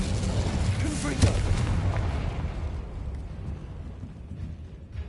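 A Confringo explosion spell cast in Hogwarts Legacy bursts as a loud, booming blast with a brief sharp crack, then a rumbling tail that slowly fades over several seconds.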